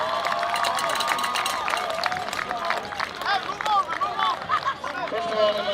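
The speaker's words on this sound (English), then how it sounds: "let's have a great round of applause for these two fine teams" A crowd claps and cheers for two boys' soccer teams, Greenwich and Stamford, after an FCIAC championship game. The applause is dense and steady, with voices mixed through it.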